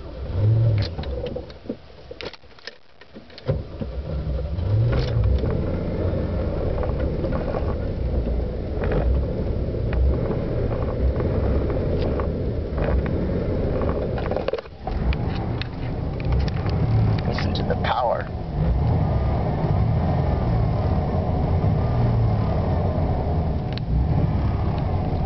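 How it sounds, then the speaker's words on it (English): A car engine cranks and catches after a brief stall, then is kept revving with a steady, droning mid-pitched roar and occasional surges. It is heard close by and alone for most of the stretch. "I have to rev it up, otherwise it'll stall."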